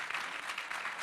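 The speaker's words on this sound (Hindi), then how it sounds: "तालियों की गूंज आ रही है" A studio audience at a televised India-Pakistan cricket debate show gives a brief burst of applause, heard faint and distant as a dense patter of clapping.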